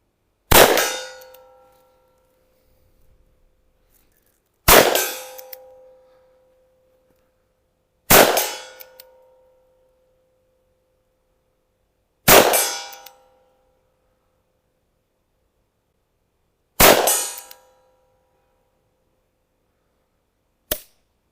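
Six gunshots ring out one at a time, several seconds apart, each a sharp loud crack with a metallic ringing tail; the sixth, a squib load malfunction, sounds as a much shorter, weaker pop.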